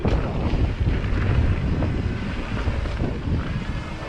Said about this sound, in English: You might not even be able to hear me talk with all those wind noises.